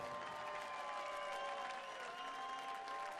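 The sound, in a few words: crowd applauding darts player William Borland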